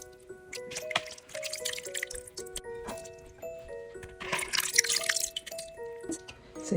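Soaked organic raisins sit draining in a sieve, with soft, irregular drips and trickles of water falling steadily, close and fairly quiet, alongside a recurring tonal hum or melody in the background.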